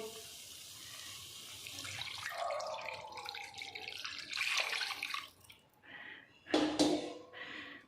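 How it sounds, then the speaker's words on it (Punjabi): Water splashes and trickles into a pan of fried masala for bottle gourd kofta curry in uneven bursts, fairly quiet, with brief gurgles and drips between pours. "ਹੁਣ ਅਸੀਂ ਇਹਦੇ ਵਿੱਚ ਪਾਣੀ ਪਾਵਾਂਗੇ"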